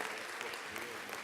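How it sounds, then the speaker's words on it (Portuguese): Brief, soft applause from an audience at the Prêmio Santo Dias de Direitos Humanos 2012 human rights award ceremony, greeting an honoree named Dexter, a steady wash of clapping heard from a distance. "Uma salva de palmas a esse valoroso companheiro"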